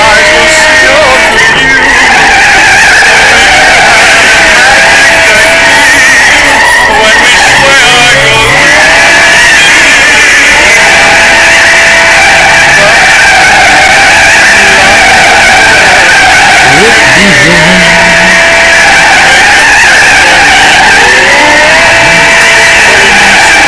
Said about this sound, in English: Doing just a little bit of some drifting here.